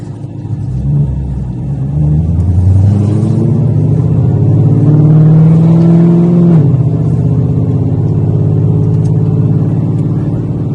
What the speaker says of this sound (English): So we have the biggest, baddest exhaust there is, and there is no drone.